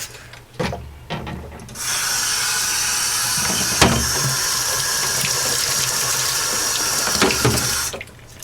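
A kitchen tap runs in a steady stream while a small spoon is sanitized, with a few clinks at the start and end and a continuous close hiss of water for several seconds, with no talking.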